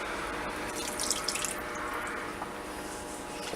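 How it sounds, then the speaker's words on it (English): Water drains off potatoes into a kitchen sink, a steady close splashing and trickling with a few brief louder splashes. "Let's drain the rest of that water off."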